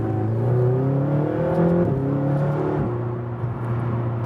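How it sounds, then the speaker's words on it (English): A McLaren GT in sports mode drives with its exhaust droning steadily up close, the engine note climbing and dropping through gear changes with no talk. "sports mode, we have a little bit more from the exhaust"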